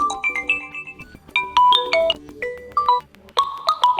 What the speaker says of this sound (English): You can select none of these ringtones, you can select one of these pre-installed ones.